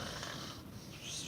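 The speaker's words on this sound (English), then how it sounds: "if that does that get rid of the snoring" Snoring-like rasping breaths from a training manikin with a blocked airway, a continuous noisy rumble lasting throughout at close range.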